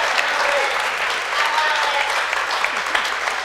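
A large crowd at a Bad Guys 2 behind-the-scenes event gives loud, sustained applause, a thick, even roar of clapping with faint cheers and voices mixed in.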